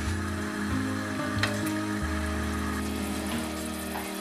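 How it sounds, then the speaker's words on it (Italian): Garlic clove sizzling in a couple of spoonfuls of olive oil heating in a frying pan, a steady, close, even crackling hiss with a low hum beneath, no voices. "Verso in padella un paio di cucchiai d'olio. Aggiungo uno spicchio d'aglio e lascio scaldare l'olio."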